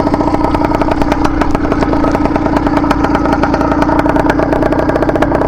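A CNC Athena motorcycle engine runs close and loud, a rapid, even putter with slight clatter and small revs, heard alone in cold weather at the start of the riding season.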